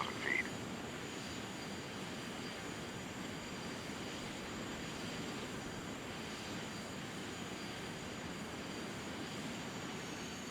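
Steady, loud jet engine roar from an airliner climbing after takeoff in Microsoft Flight Simulator X, a constant broadband drone with no breaks, with a brief faint tone at the start.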